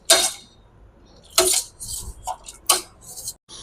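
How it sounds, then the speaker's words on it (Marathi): Cooked vegetables for pav bhaji are mashed in a pan, with sharp metallic clacks of the masher striking the pan at irregular intervals and softer squishing scrapes in between. "आता आपण हे मॅश करून घेणार आहे."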